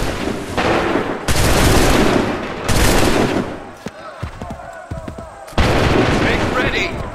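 Musket volleys in Assassin's Creed 3, heavy booming bursts of massed gunfire repeating every second or two, with shouted commands between volleys over a battlefield din.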